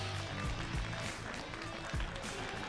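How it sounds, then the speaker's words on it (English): A crowd applauds young drivers at the Toyota Gazoo Racing GT Cup Asia Finals 2024 event. The clapping is dense and steady throughout, over a low background rumble with faint murmuring. "Applause for the youth."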